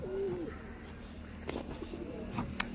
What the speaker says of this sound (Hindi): चार ही कबूतर अपने आराम से।